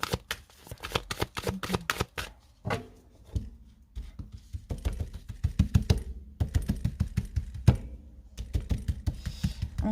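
Tarot cards being shuffled by hand in rapid bursts of crisp riffling clicks and slaps, close and fairly loud, with short pauses between bursts and no talking.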